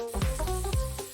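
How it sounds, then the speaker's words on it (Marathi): Butter frying in hot oil in a pan for pav bhaji, a loud steady sizzle with a few clanking stirs or scrapes against the pan, close up and with no voices. "बटर व्यवस्थित परतून घ्यायचे।"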